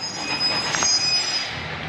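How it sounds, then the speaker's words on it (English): A loud garbage truck passing on a residential street, with a sustained metallic brake squeal riding over a steady engine rumble. "It's the loudest damn trash truck on earth that rolls down this street."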